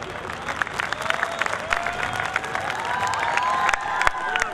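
A crowd at a live Marwari comedy poetry gathering in Bhinmal breaks into sustained applause with scattered cheers and whoops, the clapping dense and steady throughout.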